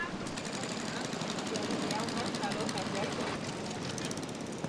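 A boat motor droning steadily on the Mekong River, a continuous rough engine hum that stays fairly loud and even for several seconds, with a faint hint of voices in the background.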